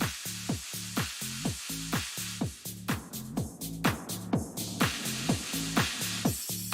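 House music runs through a DJ mixer's space effect, a steady four-on-the-floor kick with a washy, reverberant sheen smeared over the beat, loud and continuous with no talking.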